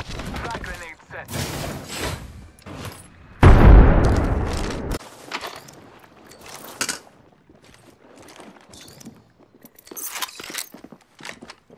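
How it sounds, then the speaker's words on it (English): A frag grenade detonates in Apex Legends as a loud, broad boom that decays over about a second and a half, surrounded by scattered gameplay clicks and effects and game character voice lines. "Frag grenade set."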